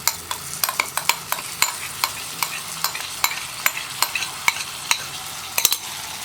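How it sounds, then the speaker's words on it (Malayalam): A mix of curd, tomato and green chilli is stirred in a pan over a low flame. A spoon clinks and scrapes in a quick, irregular rhythm over a faint sizzle, close and clear. "ഇനി ഇതെല്ലാം ചേർത്ത് നന്നായിട്ടൊന്ന് ഇളക്കി മിക്സ് ചെയ്യുക"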